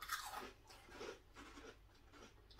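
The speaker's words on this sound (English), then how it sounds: "I'm just going to keep munching." Close, crisp crunching and chewing of a small handful of barbecue-flavour potato snacks from a 2019 US MRE ration, steady bites with no talk over them.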